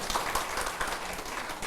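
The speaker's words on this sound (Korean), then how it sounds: "박수를 받겠습니다" A lecture audience at a Buddhist temple in Busan claps together, a dense patter of many hands that holds steady for a short burst.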